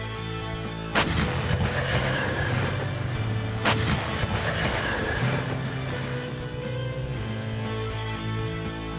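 Two heavy tank gun blasts boom out a few seconds apart, each followed by a long rumbling echo, with an engine droning underneath throughout.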